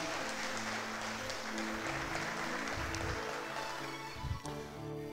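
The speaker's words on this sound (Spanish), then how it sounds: "Dale un fuerte aplauso al Señor y vamos a despertarnos" A congregation claps for the Lord during a church service, a dense, steady wash of applause with a low musical hum running beneath and a brief louder swell near the end.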